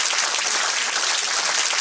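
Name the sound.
applause for best pastry chef 2014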